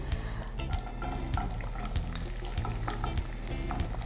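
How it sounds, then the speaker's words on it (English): Onions fry in oil flavoured with meat, giving a steady close sizzle broken by scraping stirs and light clatters, with no talking. "so we'll proceed to frying the onion."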